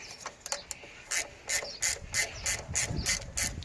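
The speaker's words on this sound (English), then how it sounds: "Let me try and wind it out with me ratchet" A hand ratchet winds out a bolt on the rear suspension linkage of a Royal Enfield Himalayan motorcycle, a close run of sharp, rapid clicks in irregular bursts with no voices.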